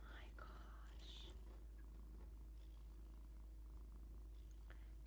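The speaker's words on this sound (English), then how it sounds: "Can you guys hear his purr?" A cat purring quietly up close, a continuous low rumble, with soft whispering over it.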